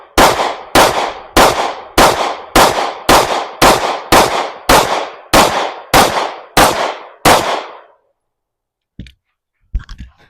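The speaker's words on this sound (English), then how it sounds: "Second gun shot was the GP Arms Patriot." Eleven sharp pistol shots from a GP Arms Patriot fired in a rapid, evenly spaced string during a timed shooting drill, loud and close, followed by silence and a few faint clicks.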